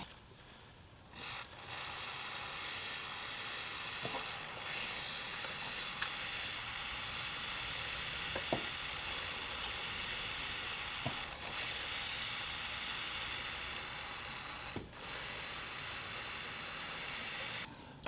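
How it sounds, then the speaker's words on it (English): An aerosol can of chain lube sprays onto the chain of a Kawasaki ZX6R motorcycle during maintenance, a steady close hiss that runs almost unbroken for many seconds, marked by a few faint clicks. "we got the chain sprayed and everything, got the lube on it"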